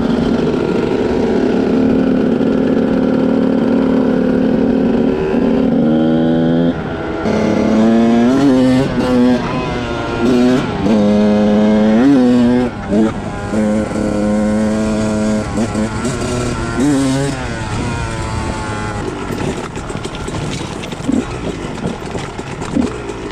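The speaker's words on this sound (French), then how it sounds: "on fait le rodage du 125 SX du collègue" A 2006 KTM 125 SX two-stroke dirt bike ridden gently during break-in, its engine droning loud and close with rising and falling revs and a buzzing tone throughout.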